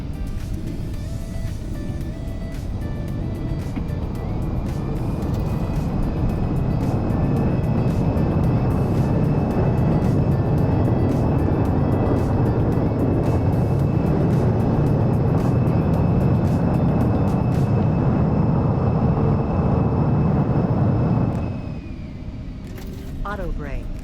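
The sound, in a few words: aircraft landing and braking in X-Plane 11 video game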